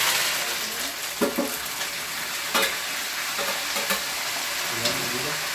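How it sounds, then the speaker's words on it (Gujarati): Roasted peanuts stirred in hot oil with cashews, almonds, raisins and curry leaves, a steady sizzle with a few scraping strokes of the spoon against the pan. "હવે એમાં આપણે નાખીશું કાજુ, બદામ, દ્રાક્ષ, કઢી પત્તા ને બધું ભેગું મિક્સ કરી"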